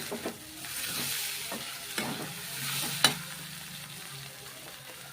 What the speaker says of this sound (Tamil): இப்போ வந்து உருளைக்கிழங்கு ஆட் பண்ணுறேன்